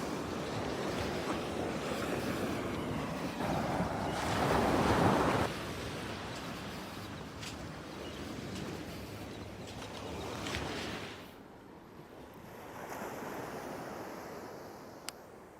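Ocean surf washes onto a beach at St Augustine, Florida, in a steady rushing roar with swells rising and falling, and light wind buffeting the microphone.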